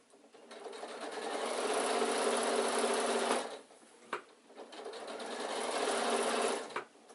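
A sewing machine stitches an insulated picnic bag in two close bursts, each ramping up to a steady whir and stopping, with a brief clunk between them.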